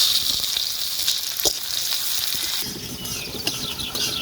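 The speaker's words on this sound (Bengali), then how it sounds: "পেঁয়াজটা ততক্ষণ ভাজা হোক" Chopped onion frying in oil with bay leaf, dried red chilli, cinnamon, cloves and cardamom, a close, steady sizzle with a few sharp spatula knocks and scrapes against the pan.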